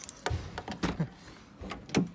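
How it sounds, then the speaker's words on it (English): The central locking on a Honda Civic 1.6, a faulty system that fails to lock the door, gives a few faint mechanical clicks and soft clunks, spaced irregularly and heard close by. "So that's the car locked now."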